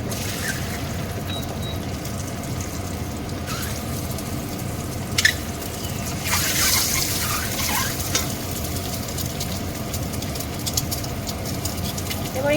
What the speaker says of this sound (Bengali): তেলটা আবার একটু গরম হলে আমি ডিমগুলোকে ভেজে নেব।